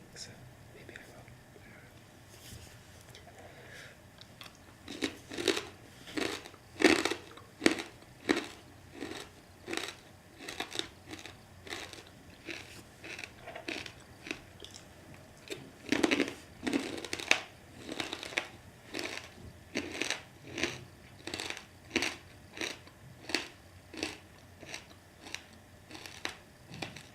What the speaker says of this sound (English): The crunching, I know. The name of them is pork crackling, so it's kind of expected